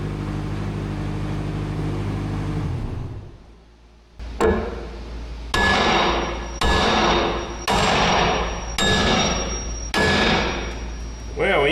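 Metal hammer blows driving a retainer pin into the boom of a salvaged man-lift, five loud ringing strikes in steady succession after a lower hum of machinery and a brief quiet.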